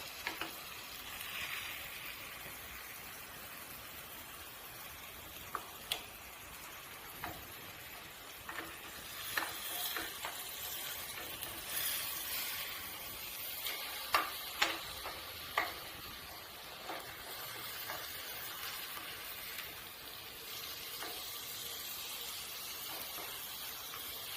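Eggs frying in a pan for egg pepper fry sprinkled with coriander leaves, a quiet steady sizzle with scattered small ticks and pops, no one talking.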